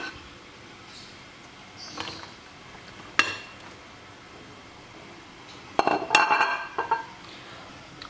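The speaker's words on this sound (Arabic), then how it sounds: "غادي ندير فيه البطاطا،" Potato pieces go into an oiled oven dish for a potato and minced chicken gratin, giving sparse clinks and knocks against the dish, a couple of brief clatters early and a busier burst of clinking near the end.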